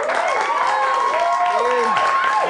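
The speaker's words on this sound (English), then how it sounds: "take that round of applause you just gave me" A comedy club audience applauds a stand-up comedian as he takes the stage, steady clapping and cheers with a voice talking over it.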